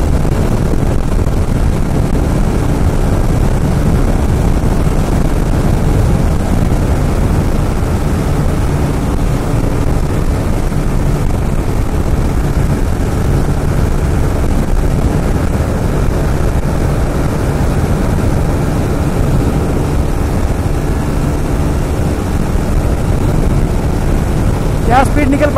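Triumph Speed 400 and KTM Duke 390 motorcycles drag race, with a constant loud engine and wind roar from a moving rider's perspective, steady throughout with a voice talking over it.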